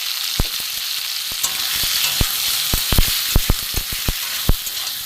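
Tomato and potato frying in a pan with salt and turmeric added, a steady close sizzle broken by sharp clicks and taps of stirring, with no talking.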